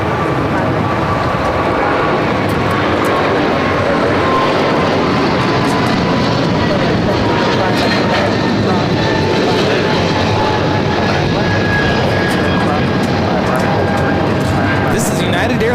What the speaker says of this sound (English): This is United Airlines 1890 taking off to Newark on the 777-200